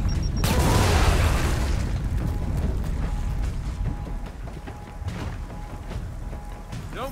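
A frag grenade goes off in the Gears of War 4 shooter, a loud booming burst that swells and fades into a long rumbling tail, with scattered thuds and mechanical clatter trailing after it.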